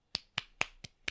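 Five sharp hand claps ring out close by in a quick, evenly spaced series, each a crisp slap with a short tail, in otherwise quiet surroundings.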